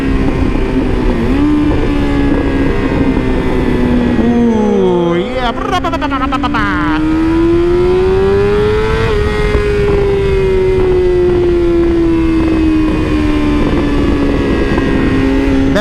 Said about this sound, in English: Can you hear the pops and bangs?